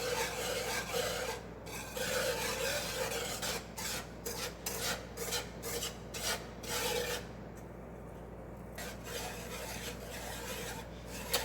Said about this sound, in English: You want to constantly stir.